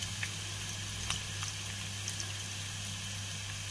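Green chillies frying in oil for pulihora give a continuous low sizzle with scattered small pops and crackles, moderately quiet over a steady hum.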